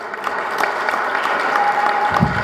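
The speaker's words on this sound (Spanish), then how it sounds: "Un aplauso para Claudia." Audience applause for Claudia Isela Gallego Rangel after her monologue performance as Juana Belén Gutiérrez de Mendoza, a steady, moderately loud wash of clapping that holds level throughout.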